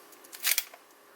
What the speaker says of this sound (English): I just heard the shutter open.